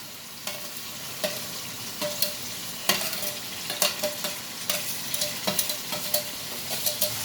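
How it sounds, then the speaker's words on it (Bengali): Chili, garlic and ginger pastes frying and being stirred in a pan for desi chicken curry. A steady sizzle runs throughout, and a utensil scrapes and taps the pan at an uneven rhythm, close and fairly loud, with no talking. "এইবার এখানে দিয়ে দেব মশলা প্রথমে দিলাম লঙ্কা বাটা তারপরে দেব রসুন বাটা তারপরে দিলাম আদা বাটা"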